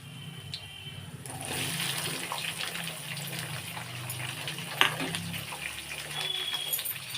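Onion and tomato fry together in a pan, a steady soft sizzle with a brief clink of a utensil partway through.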